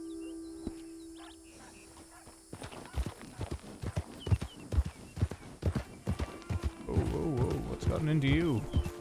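Horse hooves clip-clop in a Wild West video game. After a quiet start, the steps fall into an even walking rhythm, close and clear, and a voice-like sound rises briefly near the end.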